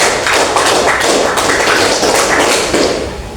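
Many hands clap at once in a crowded seventh-grade classroom, a dense, continuous patter of group applause-like claps following a counted pattern, loud and close throughout.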